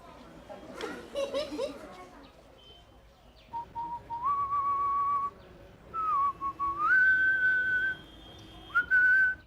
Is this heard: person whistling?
yes